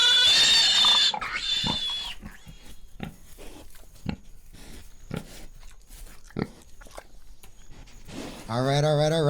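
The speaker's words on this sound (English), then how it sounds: "Ahora se salió el pinche marrano." A loose pig grunts and squeals at a home, loud harsh bursts at the start and end with scattered snorts and thumps between.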